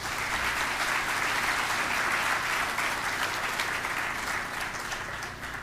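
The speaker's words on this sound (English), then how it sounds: "let's give yourselves a round of applause," Audience at an awards celebration applauding, a dense, steady clapping from a sizeable crowd that holds loud throughout and tapers slightly at the end.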